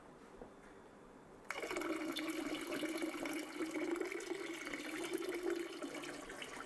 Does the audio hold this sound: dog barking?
no